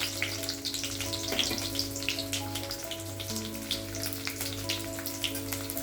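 Twelve or thirteen garlic cloves sizzle steadily in hot oil in a pan, a soft continuous crackle with fine popping spatters, close and fairly quiet, with no talking.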